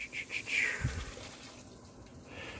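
Stock at a rolling boil in a pot on a stove, giving a steady bubbling, churning water noise with a few brighter bursts, close and continuous.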